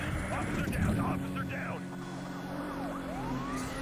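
Police car siren in the racing game Need For Speed The Run, a rising and falling electronic wail over engine rumble with a voice talking across it.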